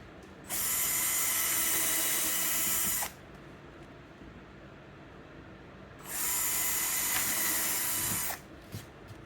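A power drill whirs loudly through wood in two bursts of about three seconds each while building a bookshelf, separated by a quieter pause with faint clicks.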